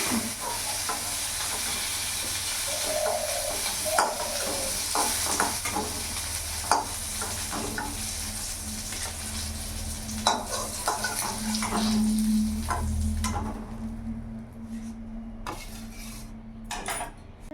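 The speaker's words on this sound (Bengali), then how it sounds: "ফুলকপিগুলো লাল লাল করে ভেজে নিয়েছি" Cauliflower florets fry in a pan with a continuous hissing sizzle, while a utensil scrapes and taps against the metal at irregular intervals. The frying fades and quiets toward the end.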